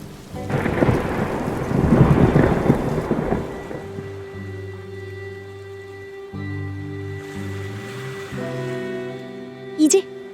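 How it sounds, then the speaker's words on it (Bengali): A heavy thunderstorm roars with rain and gusting wind strong enough to threaten a roof, loudest at first, while people talk; a sharp crack of sound comes near the end. "যা জোরে ঝড় বইতে শুরু করছে তাতে মনে হচ্ছে ঘরের চালটাই উড়িয়ে নিয়ে যাবে"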